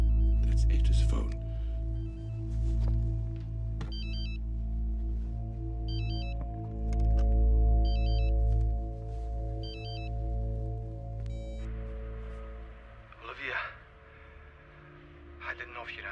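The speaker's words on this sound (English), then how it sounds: "That's Etta's phone" A telephone rings with repeated electronic chirping trills at regular intervals, sounding over a steady low hum and music bed, with a brief voice and a clatter near the end.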